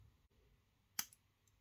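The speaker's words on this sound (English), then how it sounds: "These are my bad scissors." A single sharp snip of scissors, close and brief, in an otherwise quiet space with faint background noise.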